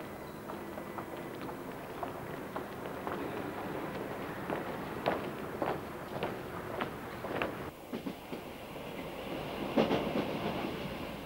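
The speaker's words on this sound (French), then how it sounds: "Le président Ikeda se rend du Caire à Alexandrie par le train" A passenger train travels from Cairo to Alexandria in Egypt, its wheels giving a steady, rhythmic clickety-clack over the rails with a constant rumbling background and no talking.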